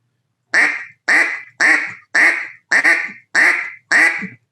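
Seven evenly spaced quacks blown on a wooden duck call, each one loud, close and raspy, with short gaps between them and no talking.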